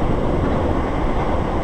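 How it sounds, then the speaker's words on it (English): Class 700 trains race past at West Hampstead station, a loud, continuous roar close by with heavy rumble and wind buffeting, no talking. "This is a train race."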